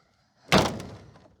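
A sagging metal door on an abandoned airport building is forced shut, making a single heavy, close slam with a short rattling decay and no voices.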